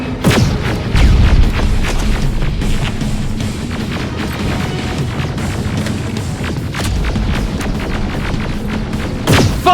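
Heavy combat in the Terminator Resistance video game: dense continuous gunfire and booming explosions, with loud blasts near the start and end, filling the whole stretch without pause.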